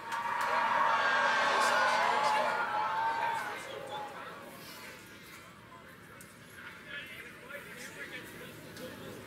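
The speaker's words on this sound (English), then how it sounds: "You'll hear the crowd cheer." A crowd gathered outdoors for a total solar eclipse seen through cloud cheers and whoops at totality, loud for several seconds before easing into scattered murmuring and chatter.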